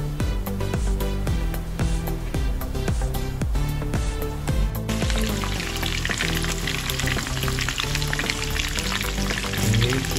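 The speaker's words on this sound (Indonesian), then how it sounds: "Dia merecik-recik minyak panas kan." Chicken pieces for green-chili fried chicken frying in hot oil, a loud, dense, continuous sizzle with crackling spatters throughout and no talking.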